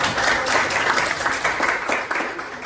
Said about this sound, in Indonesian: Beri aplaus lah untuk teman-teman.